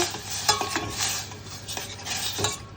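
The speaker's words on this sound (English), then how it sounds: "as well as the cranberries and apricots, because they've got sugar too on them. And I'm going to give it a little stir." Cranberries and apricots being stirred with a utensil in a pan for apple crumble, giving soft scraping strokes over a faint sizzle, with a few louder clinks of the spoon against the pan and no talking.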